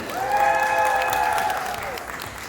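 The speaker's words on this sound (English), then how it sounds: "Please give another round of applause to Bloomy!" An audience at a cosplay masquerade applauds for a featured cosplayer, steady crowd clapping throughout, with a sustained tonal musical or cheering sound layered over it.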